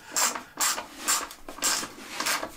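A wood carving stand's ratchet handle clicks in repeated bursts of rapid ticks while being turned at a bench, close and clear with no talking.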